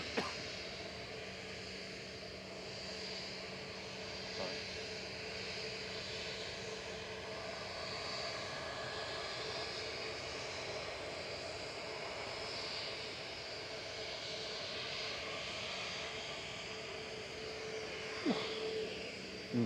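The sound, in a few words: EasyJet airliner touching down at Manchester Airport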